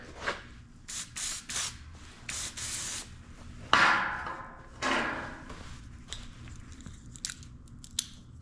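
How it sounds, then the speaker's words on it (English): Degreaser sprayed onto a 1999 Dodge Ram pickup: a rapid run of short, close hissing spray bursts, then a few longer sweeping sprays and scattered light clicks. "First thing we'll do is take a little degreaser."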